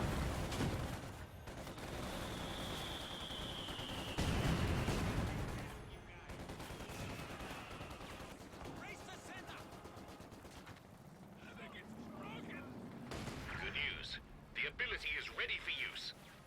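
Mortar barrage in Company of Heroes 2, with a mortar emplacement under fire: scattered mid-distance blasts and gunfire thumps running beneath continuous commentary, busier toward the end.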